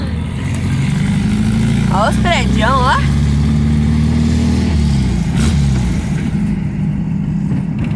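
A Volkswagen Fusca (Beetle) drones with a steady low engine hum while driving to the beach, loud and continuous beneath people chatting inside the car.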